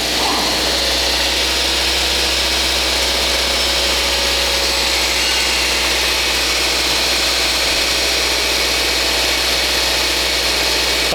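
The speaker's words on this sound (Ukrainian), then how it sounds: "Трішки прогріємо, подивимося, що він скаже нам цей двигунець." A 2024 Subaru Legacy engine warming up at idle, a constant low rumble and hum, loud and close, running without change for the whole stretch.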